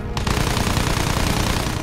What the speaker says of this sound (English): Riot cannon rounds from Bombard, sniper shots from Vega, and endless waves of bullets from Tri.